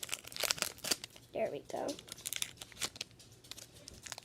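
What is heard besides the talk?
opening a Pokemon XY Breakthrough booster pack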